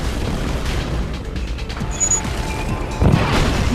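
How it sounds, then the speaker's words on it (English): A missile launches in Red Alert over a dense, loud rumble of battle noise. A short whine rises partway through, then a heavier boom hits near the end. "Missile launch confirmed."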